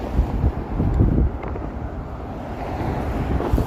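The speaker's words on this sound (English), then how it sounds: "Stupid cold with the wind anyway." Cold wind buffets a microphone outdoors on a freezing evening in downtown Toronto, a steady low roar with gusty swells and no voices.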